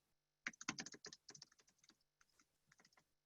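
Quiet keystrokes on a computer keyboard typing an @mention, a quick burst of clicky taps followed by a few slower, sparser presses.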